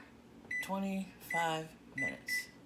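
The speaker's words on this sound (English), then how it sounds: "And then I'm going to set the timer." A kitchen timer being set while baking chocolate-dipped biscotti, giving several short, high beeps as its buttons are pressed. A person talks between the beeps.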